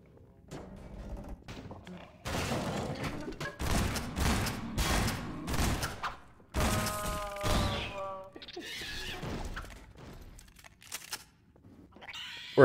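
Shotgun blasts at zombies in Half-Life 2: Episode 2 boom in loud, irregular bursts, several close together, with muffled voices and game noise between them.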